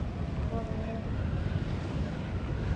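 A light northeast breeze rushes steadily across the microphone outdoors by the sea, a continuous low buffeting roar with faint water sounds mixed in.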